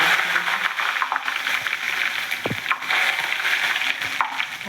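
Asafoetida and curry leaves hit hot oil with cloves and cumin for a Gujarati sweet potato farali bhaji, giving a steady, dense sizzle that crackles throughout, with a brief clink near the middle and no talk.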